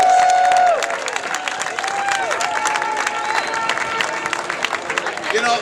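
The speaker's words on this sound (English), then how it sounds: "Let's give them all a big hand of applause" Art-opening crowd gives the competing artists sustained, lively applause with scattered cheers and whoops, moderately loud and close, with some voices mixed in throughout.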